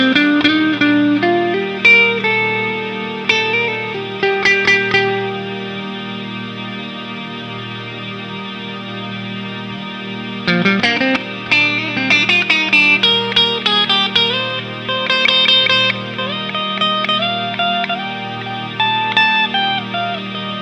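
An electric guitar played through the S-Gear 3 amp sim with reverb lets sustained chords and single notes ring out with a lingering tail, going quieter midway before a busier run of picked notes.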